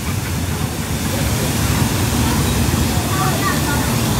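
Waterfall in Shatin Park rushing as a steady, loud hiss of falling water, close and constant throughout, with no distinct breaks.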